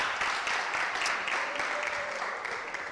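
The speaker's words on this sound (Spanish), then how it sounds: "Lo recibimos con un fuerte aplauso." Audience applause at a Bible study class, a steady, dense wash of clapping from a room of people, moderately loud and continuous throughout without a clear ending.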